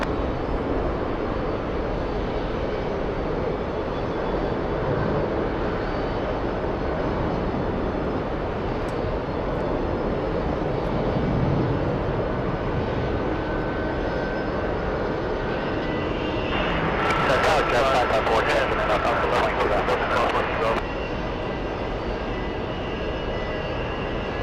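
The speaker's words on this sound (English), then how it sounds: "We have a JetBlue A220 flying to Jacksonville, Florida, lined up and ready to go." JetBlue Airbus A220 jet bound for Jacksonville, rolling for takeoff at JFK airport: a steady, loud broadband engine roar throughout, swelling with a brighter whining surge near the end.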